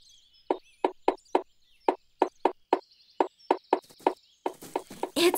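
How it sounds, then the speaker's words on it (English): A series of sharp, hollow knocks in quick bursts as an animated bird pecks holes in a tree, with high chirps and rustling toward the end. "It's a bird, and it's making holes in the tree."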